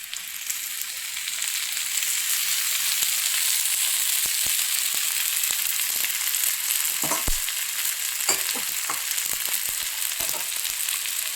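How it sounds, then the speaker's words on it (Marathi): Oil sizzles steadily as steamed dumpling pieces shallow-fry in a wok over low heat, with a few light clicks and stirring taps, no voices. "इथं आता कमी गॅसवर मी शॅलो फ्राय करून घेणार आहे."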